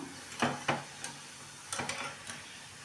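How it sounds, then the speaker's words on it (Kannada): Badusha frying in oil over a medium flame, with soft sizzling and a few sharp clinks and scrapes of a utensil at irregular intervals. "ಮೀಡಿಯಮ್ ಉರಿಯಲ್ಲಿ ನೀವು ಚೆನ್ನಾಗಿ ಇದನ್ನು ಫ್ರೈ ಮಾಡ್ಕೋಬೇಕು"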